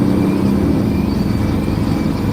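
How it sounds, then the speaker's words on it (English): Peterbilt truck with a Cummins engine driving with the passenger window cracked, a steady, loud low engine drone and road rumble filling the cab without a break. "guys can hear the truck a lot better than you could before."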